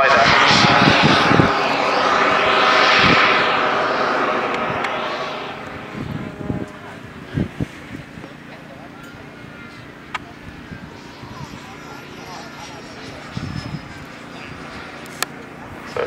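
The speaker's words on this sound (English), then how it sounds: "he's going to bring the throttle back to idle now, and we'll have a look at how this model behaves as a glider" A radio-controlled turbine Fox model glider throttles back, its loud engine roar fading after a few seconds into quieter air noise, with scattered faint knocks and rustles.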